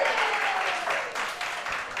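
Steady applause from a crowd at a bocce tournament fills the whole stretch, a dense close clapping that thins slightly partway through.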